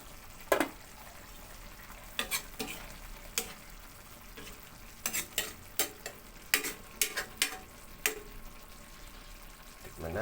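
Sardines in tomato sauce with vegetables simmering and sizzling steadily in a pan, with clinks and scrapes from stirring scattered through, close and moderately loud.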